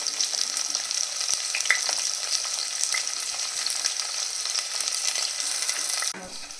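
Onions frying in hot oil with whole garam masala spices and a whole large green chili, a steady close sizzle with occasional stirring clicks, then the frying drops away near the end.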